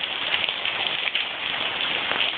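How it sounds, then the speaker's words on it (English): Hard rain falls steadily in a close, even hiss of drops hitting surfaces, with no voices over it. "Did you like the rain, Samuela?"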